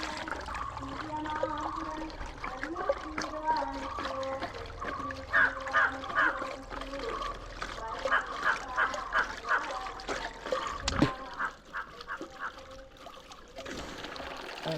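Water runs and trickles into a condom as it fills and swells, a continuous close gurgling stream with uneven splashy surges and a sharp knock near the end.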